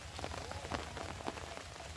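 Heavy rain pours over flooded rice fields, a dense, even hiss of drops with scattered louder patters, fairly faint overall and with no talk.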